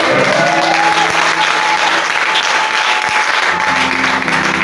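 A church congregation claps loudly in acclamation of the Lord, a dense, sustained roar of applause filling the whole stretch, with faint sustained tones beneath it.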